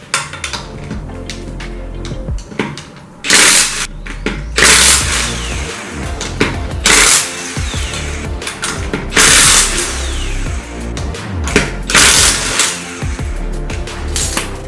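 Ratcheting tool clicks and metallic clanks ring out in loud bursts as the back wheels come off a Nissan R33 Skyline in a garage, close up and without talk.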